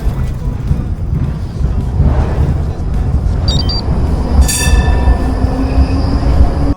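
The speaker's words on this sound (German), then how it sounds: "Oh, hier kommt die Straßenbahn, ich muss warten." Tram in Pilsen passing close by, a steady loud rumble of wheels on rails with brief squeals of metal, heard outdoors from a roadside while waiting on a bicycle.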